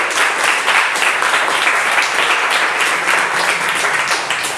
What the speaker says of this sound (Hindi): एक बार जोरदार तालियां बजा